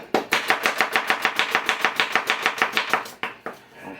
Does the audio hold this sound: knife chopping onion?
yes